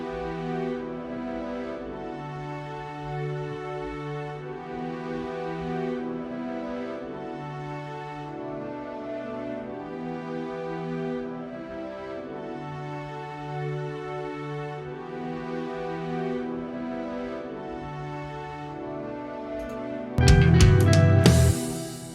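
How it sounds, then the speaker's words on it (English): Sustained orchestral violins, horns and oboes from the Spitfire Audio BBC Symphony Orchestra sample library play slow swelling chords, ending abruptly in a brief loud burst of a different sound. "BBC Symphony Orchestra from Spitfire Audio, some violins,"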